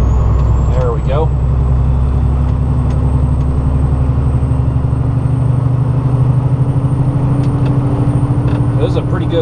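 A truck engine labors hard uphill at low speed, producing a loud, deep, continuous rumble with a pulsing drone, and brief voice sounds come through near the start and end.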